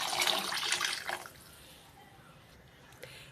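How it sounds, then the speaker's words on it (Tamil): Water is poured into a cooker holding rice and lentils, a splashing gush lasting about a second, then a quiet trickle and faint drips. "எக்ஸ்ட்ரா ஒரு 3 டம்ளர் தண்ணி ஊற்றுறோம்."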